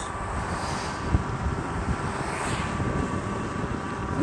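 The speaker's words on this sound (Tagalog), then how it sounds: "Ang lakas ang hangin." Strong wind roars in a constant, broadband rush against the microphone, buffeting steadily for a few seconds with slight surges and no voices.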